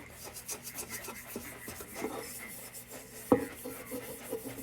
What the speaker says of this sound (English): So I'm just going to get the burrs off it, very light pressure on the steel wool.